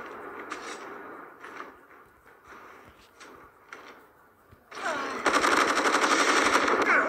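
CR-56 AMAX rifle fire in Call of Duty Mobile: a few scattered shots and clicks at first, then a dense, loud sustained burst of automatic fire near the end.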